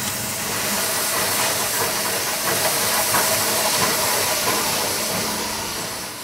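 A heavy industrial press moulding rubber nuggets into tennis ball halves gives off a loud, continuous hissing roar, like escaping steam, with a faint chugging pulse running through it.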